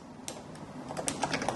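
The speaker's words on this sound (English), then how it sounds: "And then I'm going to begin typing." Quick keystrokes on a computer keyboard while filling in an email subject line, a dozen or so crisp, close clicks in an uneven rhythm, growing busier in the second half, with no talking.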